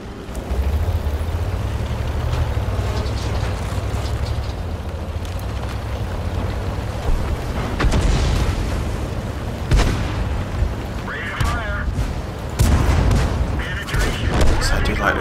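Churchill tank main gun firing in a World War II tank video game: several heavy booming shots through battlefield noise, with a voice talking over much of it.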